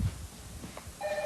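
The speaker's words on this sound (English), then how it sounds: "Is that your phone?" A telephone rings at a tennis event, a short electronic ring of steady tones that starts near the end after a stretch of muffled background noise.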